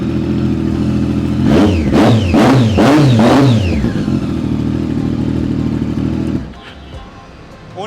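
A 2015 Triumph Daytona 675 fitted with an Austin Racing exhaust blips its throttle four times in quick succession, each rev rising and falling sharply over a steady idle. The idle then settles and drops away toward the end.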